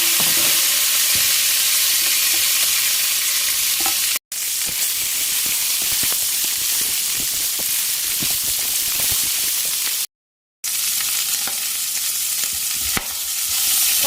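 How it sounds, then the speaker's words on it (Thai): Pork belly and sugar cane stir-fried with shallots give a steady, close sizzle with stirring scrapes, interrupted by two brief silent gaps; no talking. "ใส่อ้อยค่ะ ใส่อ้อยลงไป ผัดด้วยหอม"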